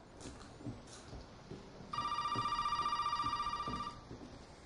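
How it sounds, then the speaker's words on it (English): Telephone in Resident Evil 7 rings with a sustained electronic trill lasting about two seconds, heard alongside faint footsteps and room noise. "Oh, the phone!"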